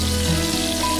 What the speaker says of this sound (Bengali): হালকা ভেজেই দিয়ে দেবো গার্লিক